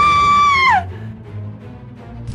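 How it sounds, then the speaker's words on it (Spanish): A woman screams in a Spider-Man cartoon: one loud, high, sustained shriek that bends downward and breaks off, followed by a quiet low background. "Harry escucha el grito de su madre"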